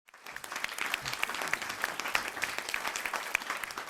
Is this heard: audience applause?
yes